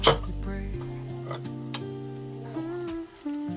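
Sabudana khichadi with fried potato, peanut powder and salted tapioca pearls cooks in a pan, giving a soft sizzle with light stirring and scraping, and a couple of sharp utensil clinks.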